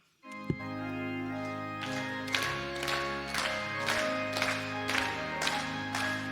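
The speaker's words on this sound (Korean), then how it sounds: "찬송가 323장 함께 힘차게 박수치며 찬양하시겠습니다" A church congregation at a Wednesday evening service claps in a steady, even beat along with hymn music, the sharp claps repeating about twice a second over sustained tones.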